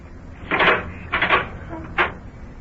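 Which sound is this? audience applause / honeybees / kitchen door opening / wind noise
kitchen door opening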